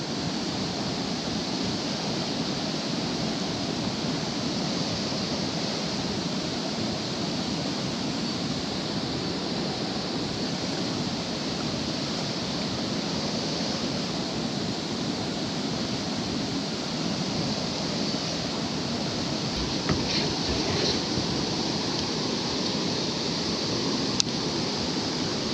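Continuous rushing water of a fast-flowing creek, steady and close throughout with no voices.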